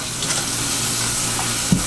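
Water rinsing over a sneaker sole during shoe cleaning, a steady hissing splash throughout at close range with a brief louder knock near the end.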